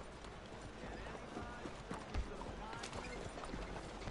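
Horse hooves clip-clop faintly in Red Dead Redemption 2, a quiet running patter beneath a dense bed of background game noise, with someone talking briefly.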